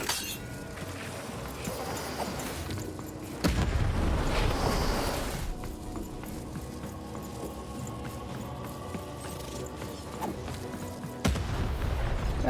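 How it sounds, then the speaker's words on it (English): Cannons firing during a boss fight in the video game Lost in Random, heavy booms landing around the 3.5 and 11 second marks over a dense, busy game soundtrack and effects bed. "Shoot the button to fire the cannon."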